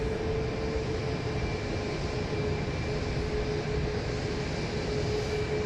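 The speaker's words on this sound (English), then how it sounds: "I believe this will be Southwest 3390, a MAX 8 on its way to Denver, Colorado." A Southwest Boeing 737 MAX 8 takes off from Dallas Love Field, its jet roar a steady broad rumble with a faint tonal whine, heard from a distance without talk.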